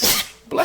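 A single sharp sneeze bursts out close by during a conversation, followed by a brief pause and then a voice starting again.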